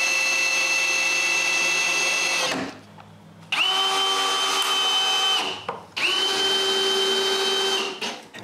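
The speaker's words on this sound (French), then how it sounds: "je peux tout visser ça ensemble" Power drill driving screws into a wooden frame built for a chainsaw lumber mill: three loud, sustained whirring runs, separated by brief quiet gaps, with the motor winding down at the end of each burst.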